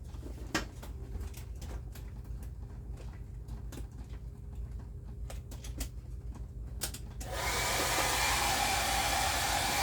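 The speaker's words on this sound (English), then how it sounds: "as soon as I get my dryer on" A hair dryer, used to dry a decoupage bottle, switches on near the end and blows with a loud, steady whoosh after several seconds of quiet tapping and handling noises.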